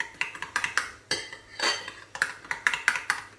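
A metal spoon mixes spicy mayonnaise sauce with sriracha in a bowl, giving a run of quick, close clinks and scrapes against the bowl in an uneven rhythm.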